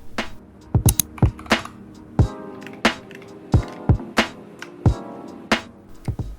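Typing on a Nuphy Air75 keyboard, crisp individual keystrokes in an irregular rhythm with some doubled clacks, close and fairly loud, no voices.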